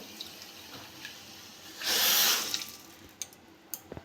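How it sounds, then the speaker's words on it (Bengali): Water poured from a bowl into sugar and cardamom in a hot pan, a short splashing gush lasting about half a second after quiet kitchen clinks, followed by a few small knocks. "ওই বাটি মেপে আমি 1 বাটি জল দিয়ে দেবো।"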